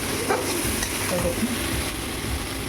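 Spiced masala for a koi fish dish fries in oil, a close, continuous sizzle with a few stirring scrapes over a short stretch and no speech.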